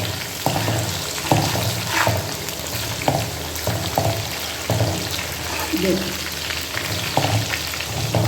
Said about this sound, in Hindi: बस इसको कलर देने के लिए इसको फ्राई करना है।